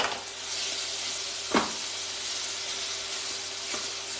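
A mixture of onion and bacon sautés in a pan, making a continuous, close frying hiss with a couple of brief stirring scrapes and no speech over it.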